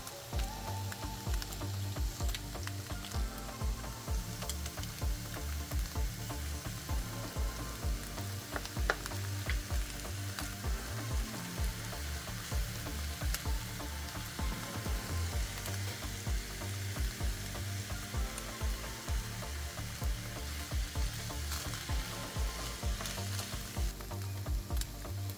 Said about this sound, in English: Add 1 teaspoon of minced garlic, cook for about 30 seconds